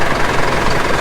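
A tractor stuck and buried in soft mud runs its engine in a dense, continuous low rumble with rough knocking vibration, close and loud.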